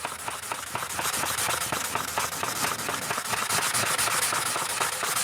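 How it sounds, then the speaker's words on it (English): Quartzite stone being polished, a dense continuous gritty rubbing and whirring with rapid rhythmic scraping strokes, close and steady throughout with no speech. "So let's just start polishing on that."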